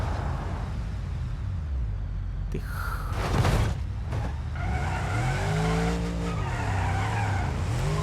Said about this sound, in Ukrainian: Колесо відпало, але Лексус продовжує рух.